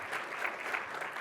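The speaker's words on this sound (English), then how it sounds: "So please give a round of applause for the guys that are contributing their time." A crowd at a GDC 2023 conference talk claps steadily, a dense, even patter of applause from many hands lasting throughout.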